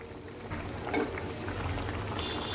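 Fried hilsa fish and potatoes sizzle faintly in a pan, a soft steady frying hiss with one brief louder stir.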